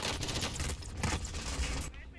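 Rapid gunfire from a Call of Duty zombies match rattles in quick bursts, mixed with voices talking over the shooting.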